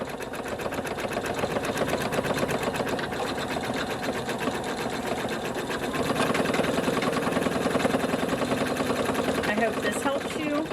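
A computerized embroidery machine quilts a half bowl cozy held in its hoop, its needle chattering in a steady, fast, close mechanical rhythm that grows slightly louder partway through.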